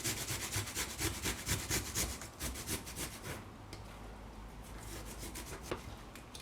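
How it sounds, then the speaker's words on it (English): Garlic is grated over a grater in quick, rhythmic rasping strokes, loud and close at first, then thinning into lighter, sparser scrapes. "going to grate the garlic"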